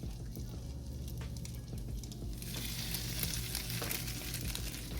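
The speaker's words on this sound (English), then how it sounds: "we're just going to put in the bread, turn it, and get it into the pan" French toast bread frying in a pan, a soft sizzle that swells louder and brighter halfway through as the soaked bread meets the hot surface, with light clinks of handling.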